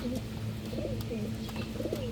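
Pet pigeons or doves coo softly in repeated low phrases at close range over a steady background hum.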